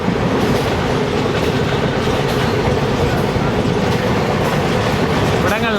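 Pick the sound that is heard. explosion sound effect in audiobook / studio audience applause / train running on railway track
train running on railway track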